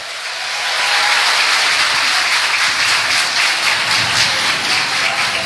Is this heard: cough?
no